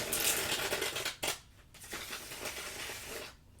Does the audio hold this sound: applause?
no